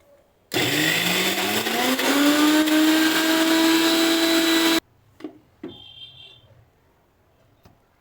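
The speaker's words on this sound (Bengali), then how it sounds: "তো এবার ডালগুলো বেটে নিতে হবে। এবার মিক্সিং জারে তুলে নিচ্ছি।" Mixer grinder blending soaked lentils into batter: a loud, steady whirring motor that runs for about four seconds and rises slightly in pitch, then stops abruptly, followed by a few clinks and rattles of the jar.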